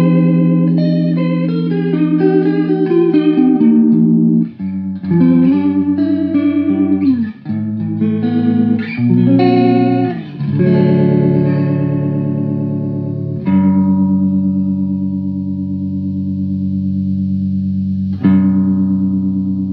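Electric guitar played through a TC Electronic SCF stereo chorus flanger with speed, intensity and width all maxed, giving loud, swirling, fast-warbling chords and single-note runs, then long sustained chords that ring out alone.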